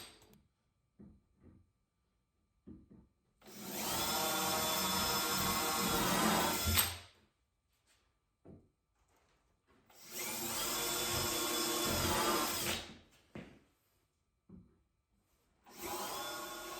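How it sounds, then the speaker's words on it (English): Drill bursts from an Amana countersink bit pre-drilling holes in wood for French cleats: three sustained whirring runs of about three seconds each, loud and close, separated by quiet gaps with faint handling clicks. "So now I pre-drill all the holes using my Amana countersink"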